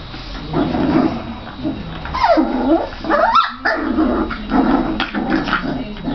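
Beagle puppies whimper, yip and bark in a steady stream of close, overlapping high cries, with a few sharper barks cutting through near the middle.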